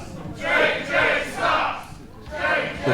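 Wrestling crowd at a strap match between Jay Alexander and JJ Lynch, jeering in rising and falling surges, about four swells of voices in three seconds, loud and close.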